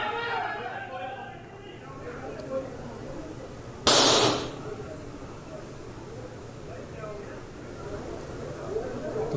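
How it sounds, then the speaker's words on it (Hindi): A single sharp gunshot-like bang cracks out partway through news footage of firing in the Tis Hazari court premises, standing out above steady background talk and crowd noise. "30 हजारी कोर्ट परिसर में फायरिंग करता नजर आ रहा है ये 2 बार का वाइस प्रेसिडेंट।"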